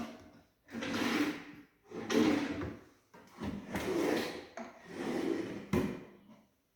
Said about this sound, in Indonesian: Terus lagi ini laci standar.